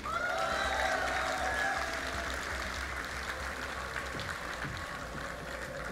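A crowd at a StarCraft esports championship semifinal claps and cheers in a steady wash of applause that fades slightly over six seconds, heard from within the venue.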